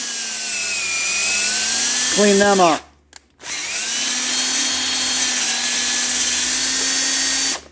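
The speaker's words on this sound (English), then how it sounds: "I just use my cordless drill. I run it on low speed" A cordless drill running a 3/8 tap whines steadily at low speed, pausing briefly before starting again, loud and close, with a few spoken words over it.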